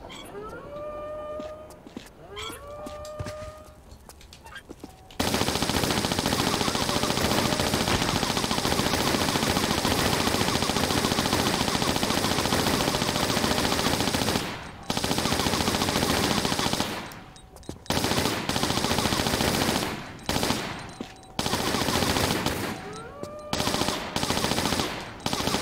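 Uzi fire in the Tomb Raider level Icy Paradise rattles in long, loud continuous bursts that break off and restart in shorter volleys, preceded by a few seconds of other game sounds.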